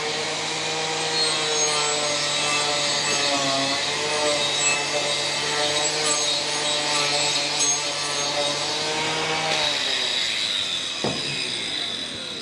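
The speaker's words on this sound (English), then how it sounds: "We'll keep turning this and just grind away at the edges there," Power grinder abrading the edges of a timber burl as the piece is turned, a continuous loud whining, rasping drone with steady pitch that ends with a brief scrape near the end.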